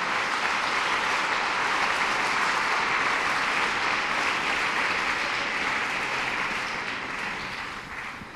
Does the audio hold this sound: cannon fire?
no